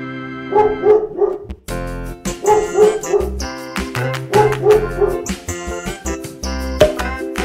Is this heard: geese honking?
no